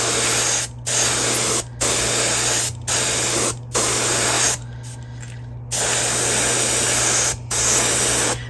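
Bursts of aerosol spray paint hissing onto a sunfish swimbait, close and loud, in a rhythm of long sprays with short breaks between them, one slightly longer pause midway; no voices.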